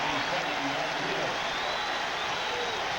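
Football stadium crowd at a 1992 NFL preseason game between the Falcons and Buccaneers in Tampa, a broad roar of cheering and clapping at moderate level, steady and diffuse across the short stretch.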